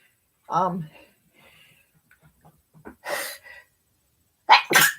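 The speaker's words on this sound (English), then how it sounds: "Sneeze came on." A single sharp sneeze bursts out, followed by quiet breaths, a short spoken remark and a couple of loud exclamations near the end.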